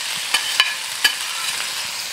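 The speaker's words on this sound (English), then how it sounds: "Stir and fry." Meat stir-fries in a hot wok with a steady, bright sizzle and a few soft scraping stirs, close by and with no voices.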